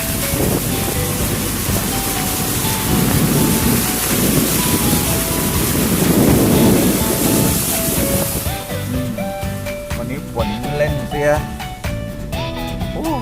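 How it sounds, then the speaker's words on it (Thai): Heavy rain pours in a steady loud hiss over low-lying, flooding ground near water where snails and water mimosa are gathered, then drops off partway through as a person talks. "ไม่รู้ยังยังจะหยุดหรือเปล่าแต่ก็ฝนตกหนัก"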